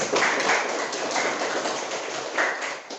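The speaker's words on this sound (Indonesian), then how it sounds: "Kita aplaus dulu untuk kita semua." A classroom group applauding together during a school guidance counselling session, a dense sustained wash of many hands clapping at close range for the whole stretch, with slight swells in intensity and no talk over it.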